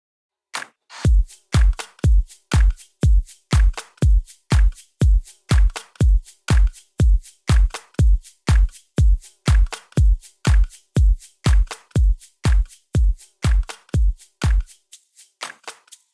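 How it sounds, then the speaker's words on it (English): Static, simple drum groove built from self-recorded claps and percussive hits, processed with compression, sample delay and bit crusher; steady punchy hits repeat at an even rhythm, close and loud, with no talk. "So altogether the drums sound like this."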